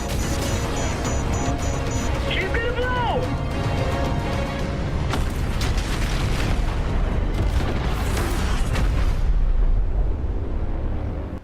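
Missile strikes rumble and boom in the Call of Duty Black Sky level, with heavy explosions swelling and crashing in waves over continuous battle noise, the loudest blasts landing near the end.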